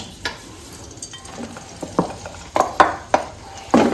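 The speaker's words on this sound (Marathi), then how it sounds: "आता भाजून घेऊया चांगलं भाजून घ्यायचं लागेल तसं तूप घालून भाजून घेऊयात" Besan being roasted in ghee for besan ladoo, stirred in a pan: soft frying hiss under irregular scraping and clinks of a spoon against the pan, growing louder toward the end, no talking.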